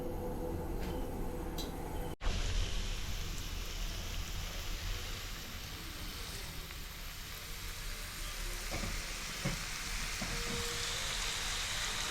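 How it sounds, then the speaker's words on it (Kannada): Marinated chicken leg pieces frying in a pan: a continuous, even crackling sizzle heard up close, with a sharp clatter early on and a few faint clinks later. "ಅದನ್ನ ಹಾಕಿ ಒಂದು 10 to 15 ಮಿನಿಟ್ಸ್ ಬಿಟ್ಟು ನಂತರ ಅದನ್ನು ಫ್ರೈ ಮಾಡ್ಕೊಳ್ತಿದ್ದಾರೆ"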